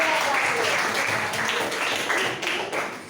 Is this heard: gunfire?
no